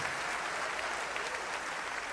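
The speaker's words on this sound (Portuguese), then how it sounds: "com as nossas mãos, o aplauso de submissão" Congregation at a church conference clapping together, a steady, dense wash of applause filling the space evenly from start to finish, loud and sustained with no pauses.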